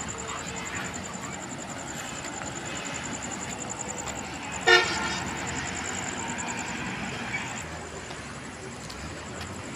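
Trucks travel across Padma Bridge, a steady low traffic rumble with one loud horn blast midway and a continuous high whine above, faint voices in the background.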